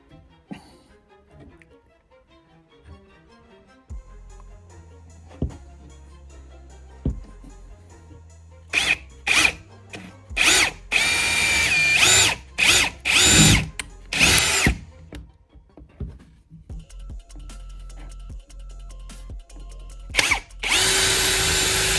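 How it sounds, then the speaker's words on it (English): A power drill pre-drilling for screws while building a reptile rack whirs in several short bursts, starting quietly and getting louder and more frequent, with clicks and handling noises between runs. "I'm just swapping out my attachment so I can pre-drill."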